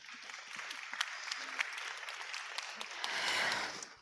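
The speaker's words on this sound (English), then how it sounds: "Let's welcome them by applauding." An audience applauds at an international startup networking event, steady clapping across the room that swells louder toward the end.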